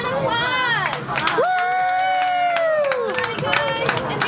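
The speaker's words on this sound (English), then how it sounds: "Let's give us a big round of applause!" A restaurant crowd at the Rainforest Cafe cheers and claps for a birthday guest, with bright whoops, shouting voices and scattered clapping over busy chatter, plus a long sustained cheer in the middle.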